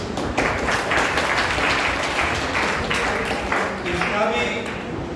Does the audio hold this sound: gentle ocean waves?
no